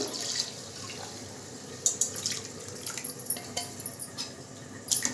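Water splashes and trickles into a cooking pot for vegetable biryani with irregular small spatters and drips, fairly close and moderately quiet, with no talking.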